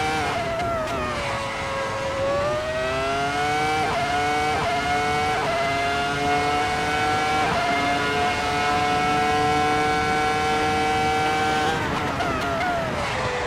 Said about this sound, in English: they've got nothing on the sound of a V10